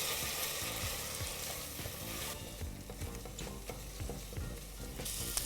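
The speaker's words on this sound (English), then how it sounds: "After spinach, I'm also adding in paste of ginger and garlic and mixing this till the raw flavor of ginger and garlic goes away." Spinach with ginger-garlic paste being mixed in a pan over a medium flame: continuous loud sizzling with rhythmic spoon scrapes and taps against the pan, close up and without talking.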